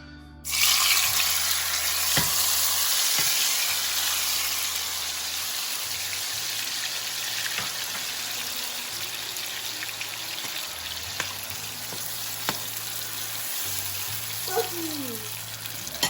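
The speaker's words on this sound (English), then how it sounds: "my oil is hot right now. So I'm gonna put the onions in there and let it cook for a bit" Chopped onions dropped into hot oil in a home kitchen give a steady, close sizzle that fills the whole stretch, with a few sharp pops and clicks scattered through it and no talking.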